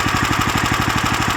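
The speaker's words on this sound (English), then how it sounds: "You always want to let your engine run, especially something like this that's air cooled." A Lifan LF390QE Pro air-cooled engine ticks over at idle after running flat out, a close, loud, rapid even chugging pulse that holds steady throughout.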